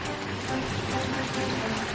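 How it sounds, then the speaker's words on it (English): Steady rain pattering outdoors, a dense even hiss of drops hitting surfaces with no distinct individual impacts, continuous and moderately close throughout. "It's raining."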